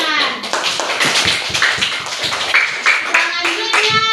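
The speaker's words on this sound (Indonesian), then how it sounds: "Tepuk tangan." A school class claps hands together in a lively, slightly uneven burst of rhythmic clapping, close and loud, with children's voices mixed in throughout.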